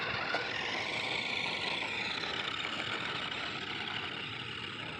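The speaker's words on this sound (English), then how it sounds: "Oh, it is a remote control car." A remote control toy car runs with a steady, continuous motor whir and rattle, fairly loud and close throughout with no pauses.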